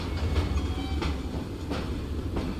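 A train rolls along in Assassin's Creed Syndicate, a steady rumbling clatter of wheels with faint rhythmic knocks, fairly quiet and continuous with no speech.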